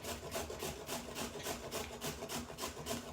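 Carrots are rubbed against a grater in a steady rhythmic scrape, about a dozen quick close strokes at moderate loudness with no voices.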